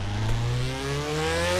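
A Mazda MX-5 Miata engine in the Drift 21 driving game, fitted with a turbo, revving with a steadily rising pitch, loud and close, with no talking.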